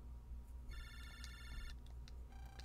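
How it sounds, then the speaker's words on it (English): A phone rings inside the Mega Man Battle Network 5 video game, a bright electronic ringtone of rapid repeated tones in one burst, then short chimes, over steady low game background music. "Lan, it's your phone."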